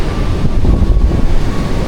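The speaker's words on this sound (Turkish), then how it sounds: "Çok fazla rüzgar var." Strong gusty wind buffeting the microphone at a beach in Da Nang, Vietnam, a loud continuous rumble with the faint wash of surf beneath.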